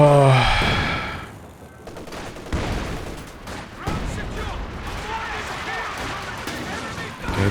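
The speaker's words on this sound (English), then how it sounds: "the ISG with the barrage, maybe that can finish the job" Infantry gun barrage in a Company of Heroes 2 match: scattered explosive bursts and gunfire rumble through the battle mix under excited commentary.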